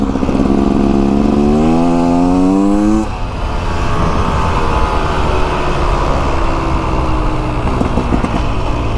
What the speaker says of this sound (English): I'll shut the hell up so you can hear the bike now.